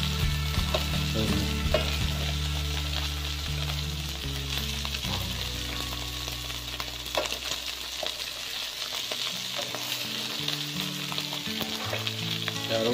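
Food fries in a hot pan toward crispness, a loud continuous sizzle and crackle with ongoing stirring scrapes, steady throughout and heard up close without talk.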